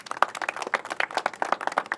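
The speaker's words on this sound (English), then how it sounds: "Let's give her a round of applause." An audience at a public safety announcement applauds the police chief with a small group's quick, uneven claps, close and distinct, with individual hand strikes clearly separated.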